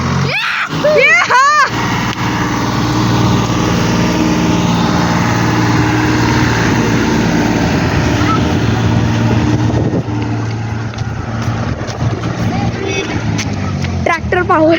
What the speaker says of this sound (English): Tractor power.